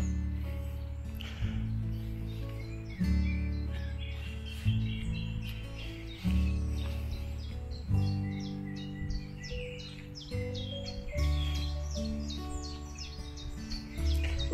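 Scattered bird calls and tweets ring out across Lune Millennium Park, fairly faint and intermittent over a continuous low humming background.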